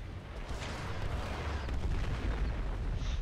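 Artillery fires in the war video game Foxhole, heard as faint, muffled booming and rumbling that builds slightly over a few seconds, with no voices.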